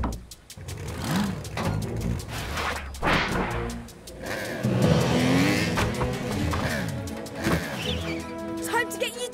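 A cartoon motorbike engine revs in bursts, with rising and falling whines, skids and busy sound effects mixed with character voices talking over it.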